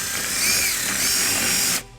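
A power drill fitted with a 3/16 bit bores a hole during a wiring harness install on a 2018 Nissan Murano, a loud steady whine that stops abruptly near the end.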